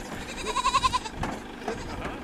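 A goat gives a loud, close, quavering bleat with a rapid pulsing tremble, followed by fainter goat sounds, on a trip between Chinguetti and Choum in Mauritania.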